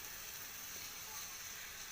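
Potatoes in a pan with poppy seed paste, giving a faint, even sizzle throughout and a single brief clink near the end.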